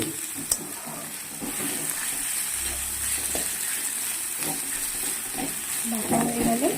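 Fish or masala paste frying in a pan in a home kitchen, a steady sizzle with stirring scrapes and brief clinks, fairly loud and close, with no talk over it.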